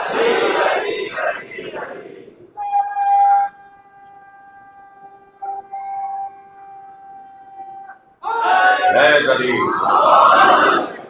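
A crowd at a majlis mourning gathering for Imam Hassan chants religious slogans in loud, dense bursts at the start and end, with a quieter stretch of sustained tones between them.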